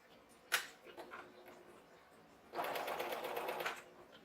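A sewing machine top stitches a baby drool pad with teal thread, running in a steady buzzing burst of about a second after a brief click and a pause.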